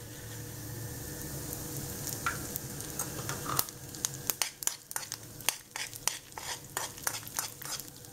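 Sesame seeds stirred into hot ghee in a pan after the flame is switched off, giving a soft steady sizzle with scraping stirs and sharp clinks of a spoon against the pan.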